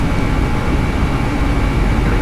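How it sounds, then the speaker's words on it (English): An airliner's engine spools up in Flight Simulator X, a dense, steady roar of broadband noise with a strong low rumble, loud and unbroken with no voices. "Now the engine is rising"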